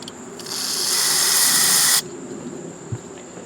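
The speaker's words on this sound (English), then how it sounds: "I am going to shoot some spray down into there." A steady hissing aerosol spray bursts into a Honda Harmony lawn mower that won't start after sitting unused, lasting about a second and a half, loud and close, then cuts off abruptly, leaving a faint background hum.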